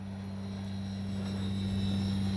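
An AS3X+-equipped Bronco RC model plane flies with a steady, continuous propeller drone, its loud hum rising slightly in intensity over a few seconds, without any voices.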